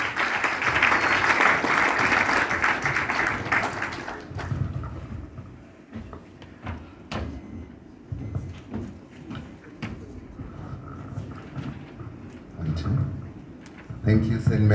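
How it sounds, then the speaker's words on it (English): Audience applause at a youth business expo presentation in Eswatini, a burst of loud clapping for about four seconds that fades into a quieter room with scattered thumps and a voice speaking. "A big round of applause to St."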